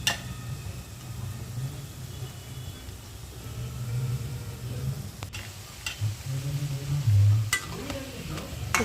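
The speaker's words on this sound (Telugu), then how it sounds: "పకోడీ వచ్చేసి ఇంకా కొంచెం వేగితే సరిపోతుందండి" Onion pakodas of gram flour batter, heavy with sliced onion, fry in hot oil with a steady, close sizzle, broken by a few sharp clinks and scrapes.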